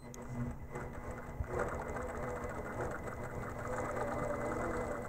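A longarm quilting machine stitches along a ruler, giving a steady mechanical whirring hum with a faint rhythmic rattle throughout, close by and moderately quiet.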